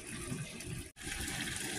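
Two cups of water pour steadily into a crock pot of chili with diced tomatoes, tomato sauce and chili beans, a continuous close splashing gush with one brief break in the middle.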